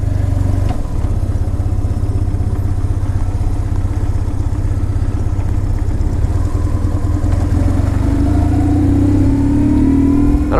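A 2004 BMW R1150GS Adventure motorcycle engine runs steadily and loudly close to the microphone during a ride, its drone rising in pitch toward the end as the rider accelerates.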